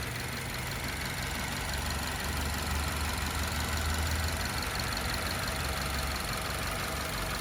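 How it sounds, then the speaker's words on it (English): A 2015 Subaru Forester's 2.5-liter four-cylinder engine idles smoothly under the hood, a steady low hum and light mechanical ticking that hold even and constant throughout, heard up close with no talking. "as you guys can tell, the vehicle is currently running, nice and smooth running engine"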